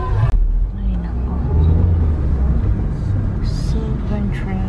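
Heavy road traffic fills a congested street where a driver is hunting for parking: a steady, close rumble of car engines with no break, and voices faintly underneath.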